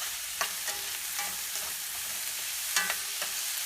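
Onions sautéing with salt in a pan for mutton keema, a steady sizzle with a few soft spatula scrapes and stirs clicking through it, close and alone.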